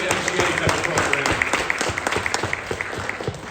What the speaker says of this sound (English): How about a round of applause for Rachel?